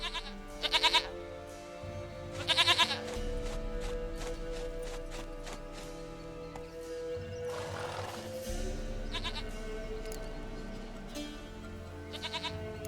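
Goat bleats in The Witcher 3 game, two short loud bleat bursts early and another near the end, over steady game ambience, music and hoof-like clip-clop.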